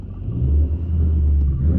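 A six-speed Dodge Challenger engine revs hard in second gear during a burnout attempt, a loud, sustained low rumble that swells and holds steady with slight dips throughout.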